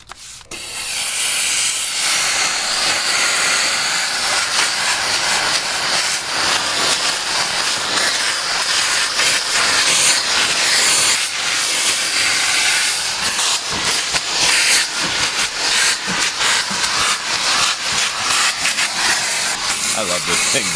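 A steam cleaner blasts a loud, continuous close-up hiss while cleaning a car's interior, a harsh spray that starts abruptly and holds steady for about twenty seconds with slight pulsing.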